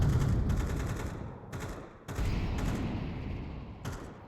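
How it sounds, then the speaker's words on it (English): Counter-Strike gunfire on the Anubis map, bursts of rapid rifle shots in several loud clusters with short gaps between them and no talk over the fire. "We hear the gunfire."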